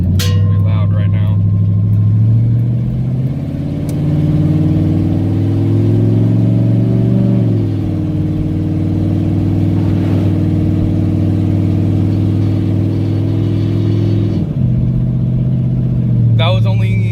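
A 2005 Dodge Magnum R/T fitted with Scat Pack headers accelerates onto a highway, its loud, droning exhaust rising in pitch as it climbs through gears, heard from inside the cabin.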